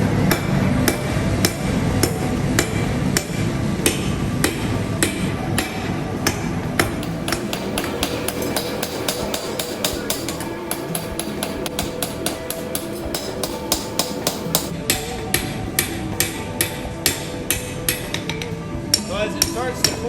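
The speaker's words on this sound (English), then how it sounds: "I'm going to start hammering this." Rapid, ringing hammer blows strike hot steel on an anvil in a blacksmith demonstration, steady and close, continuing for a long stretch with bright metallic clangs.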